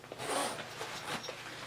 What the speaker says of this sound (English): it has a nice smooth zipper